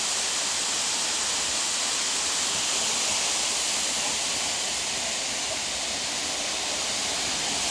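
Waterfall at New Rizal Falls roaring in a constant, dense rushing hiss, steady and fairly close, with no voices over it.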